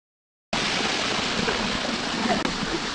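Khoiyachora waterfall in the Chattogram hills flows in a steady, dense broadband rush that starts abruptly and holds constant, close and loud with no voices.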